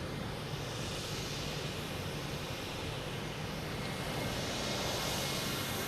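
A JetBlue airliner taking off from Boston Logan, bound for JFK, produces a broad, loud, sustained jet roar that swells slightly toward the end, with no voices.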